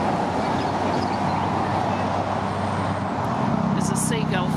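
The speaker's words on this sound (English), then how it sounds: "Whoops, that was a big truck." A big truck passes on a roadside near the Kaikoura coast of New Zealand, a loud steady roar of tyres and engine rumble filling the clip, with a brief bird call near the end.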